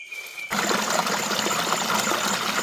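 Forest stream at night, water rushing and trickling steadily at close range; after a quiet start the flow fills the scene as a constant, fairly loud wash with no talking.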